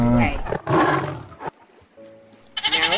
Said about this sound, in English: Now this is the Bengal tiger.